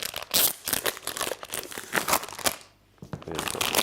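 Cutting open a plastic packet of sugar paste for icing a wedding cake: close, busy crinkling and rustling of the wrapper with snips and tearing, a brief lull, then more crackling handling.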